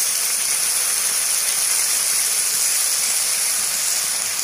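Vegetables for a village-style pointed gourd and prawn curry hit a hot pan, giving a loud, steady, unbroken sizzle and hiss that runs throughout with no voices.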